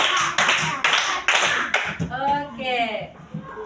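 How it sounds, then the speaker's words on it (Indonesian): Indonesian schoolchildren in a classroom give a rhythmic patterned clap, several sharp loud claps in a quick beat, followed by voices calling out together. "Kita beri tepuk"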